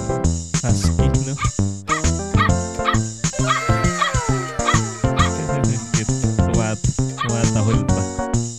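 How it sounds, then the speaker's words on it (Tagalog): A husky dog barks and yips repeatedly over loud, busy background music, the barks short and close, some whimpering mixed in. "Tumatahol pa."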